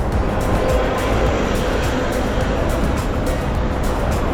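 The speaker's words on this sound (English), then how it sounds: "here's a bus" A bus passing on a city street, a loud, steady broadband rumble of engine and road noise close by, holding level throughout with faint rhythmic ticks above it.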